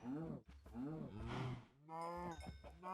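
Cows moo in the blocky Minecraft Feed The Beast game world, with several drawn-out, low, tonal moos following one another, close and fairly loud, with no talk over them.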